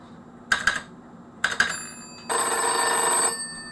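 An old telephone rings nearby with two short bursts of mechanical bell clatter, followed by a longer, steady electronic ringing tone, with no talking over it.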